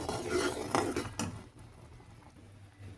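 A spoon scrapes and clinks against a pan while paneer cooks down with condensed milk and butter, a few louder metallic knocks early on and then quieter stirring.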